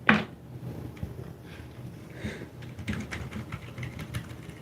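Soft, sparse clicks of typing on a quiet computer keyboard, close by, with a few slightly louder taps, likely the spacebar, among the gentle keystrokes.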